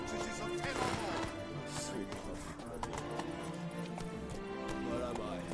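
Roach, a horse in The Witcher 3: Wild Hunt, gallops with steady clip-clop hoofbeats running through the whole stretch, mixed with game music and ambient sound, with voices talking over it.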